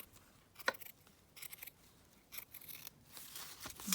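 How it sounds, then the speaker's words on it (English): Scissors snip through paper for a junk journal in several short, close cuts spaced irregularly, with quiet room tone between the snips and no talking. "And then I'm going to probably just cut it across here."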